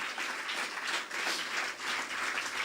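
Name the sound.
congregation applauding in church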